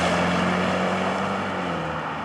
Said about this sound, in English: We also have the performance exhaust with the quad tailpipes